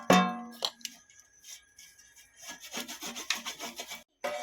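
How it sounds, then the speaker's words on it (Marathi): A spoon stirs peanuts through a thick semolina, grated cucumber and jaggery mixture in a pot over a wood-fired stove, giving close scraping and rubbing strokes in an uneven rhythm with brief clinks. "शेंगदाणे पण चांगले ढवळून घ्यायचे."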